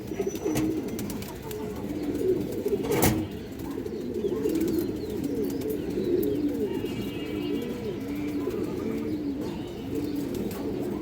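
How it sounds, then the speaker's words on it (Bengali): Kaldom pigeons, female high-flyer Indian birds, coo steadily in a loft, with overlapping low burbling calls repeating throughout and a few faint chirps and brief noises in the background. "কালদম মাদি কবুতর আছে"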